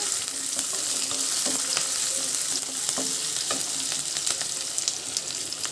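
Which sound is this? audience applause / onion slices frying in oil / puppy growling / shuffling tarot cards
onion slices frying in oil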